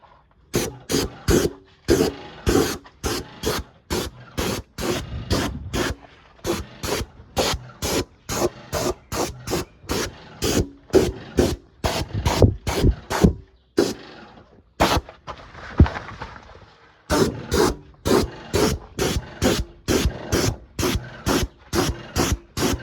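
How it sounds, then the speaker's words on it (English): A Graco airless sprayer hisses WoolWax undercoating in many short, sharp bursts close by, in a choppy rhythm with brief gaps and one longer, softer spray near the middle. "how easy it is to spray with the Graco"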